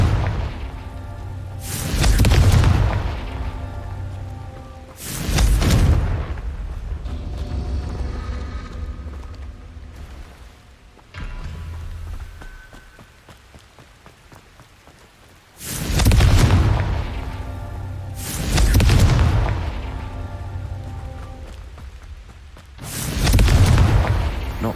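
Confringo fiery explosive spell in Hogwarts Legacy: five loud, deep booming blasts spaced a few seconds apart, each with a whooshing burst and rumbling tail, with quieter game ambience between them.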